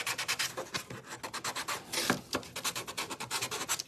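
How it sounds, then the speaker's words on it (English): The chiseled edge of a small gator sanding tool roughs up the surface of a homemade fall fridge magnet: a quick, steady run of rasping scrape strokes, close and fairly loud, with no talking. "So I'm going to take just my little gator sanding thing, and I'm going to use more of the chiseled edge"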